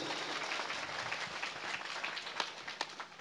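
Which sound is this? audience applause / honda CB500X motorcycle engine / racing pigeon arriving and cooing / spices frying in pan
audience applause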